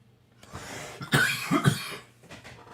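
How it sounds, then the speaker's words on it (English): A few harsh coughs burst out in quick succession, close and fairly loud, with quieter breathing before and after. "You have to pardon my coughing"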